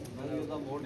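Pigeons cooing on a rooftop give low, soft, rolling coos that sit under nearby voices talking.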